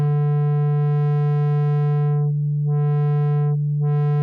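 A sine wave pushed through the Ableton Live saturator turns into a steady buzzy tone with a strong low fundamental and a stack of even harmonics, and the upper overtones briefly fade twice near the end.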